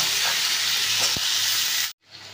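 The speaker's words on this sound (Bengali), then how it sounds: "এবার এর মধ্যে নুন দিয়ে দেবো আর হলুদ দিয়ে দেবো, দিয়ে ভালো করে ভেজে নেব।" Chopped vegetables fry in a hot pan with salt and turmeric, giving a steady, close sizzle and hiss with a faint stir before the sound cuts off abruptly.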